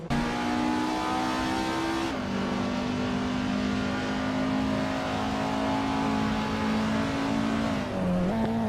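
A 1992 Citroën AX GTI engine in a racing video game holds a loud, steady drone, with a sudden pitch shift near two seconds and another dip near the end, amid continuous race-car noise.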